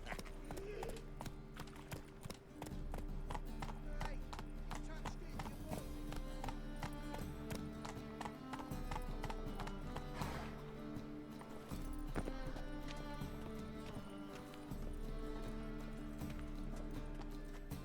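Roach, Geralt's horse in The Witcher 3, trots with steady clip-clop hoofbeats and gives an occasional neigh, heard over game music and talking voices.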